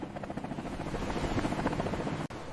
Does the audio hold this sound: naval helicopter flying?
yes